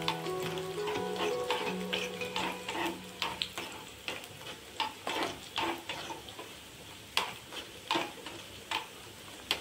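Tempering ingredients sizzle and fry in a pan for carrot tomato idly, a steady soft crackle broken by repeated sharp taps and stirring clinks, fairly quiet and close with no talk.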